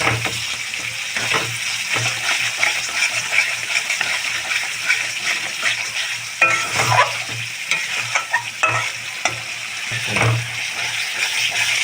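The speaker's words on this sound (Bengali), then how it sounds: "তো এখন এই কষানো মশলাতে আমি দিয়ে দেব চিনি, স্বাদ মতো চিনি।" Spiced masala with added sugar for a chickpea and potato curry stir-fries in a pan: a loud, continuous close sizzle broken by repeated stirring scrapes, with no voices.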